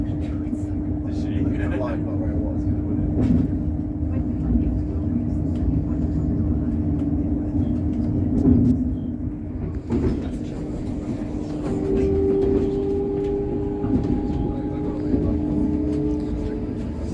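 Interior of a Great Western Railway Class 802 train in motion: a steady low rumble and hum of the running carriage throughout, with occasional knocks and a brief tonal whine, speech-like murmur faintly mixed in.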